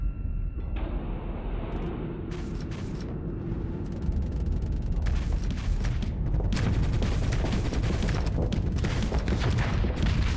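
Ship weapons and missiles fire in rapid, dense volleys in the space combat game Starsector, a continuous loud barrage of blasts and explosions that thickens toward the end, with no voices.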